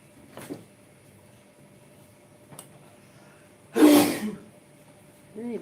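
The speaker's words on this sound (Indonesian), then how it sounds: "Bersin-bersin terus ya." A person sneezes hard once in a kitchen while pempek and cuko are being cooked, the burst loud and close, with a few softer breathy sniffs before it and a faint start of another at the end.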